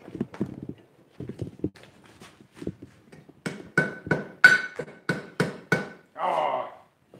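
Hammer blows on a chain link at an anvil during forge welding: softer, dull clusters of strikes first, then a run of loud, evenly paced ringing blows, ending in a brief hiss.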